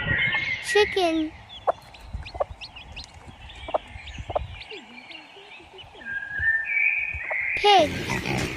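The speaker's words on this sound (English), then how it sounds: "Chicken." A chicken gives short, scattered clucks among faint chirps and whistling, with brief voices at the start and end.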